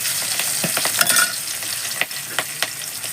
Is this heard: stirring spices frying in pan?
yes